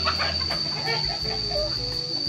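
Chickens on a farm give soft, scattered clucks over a steady outdoor background hum, with a high constant insect-like whine throughout.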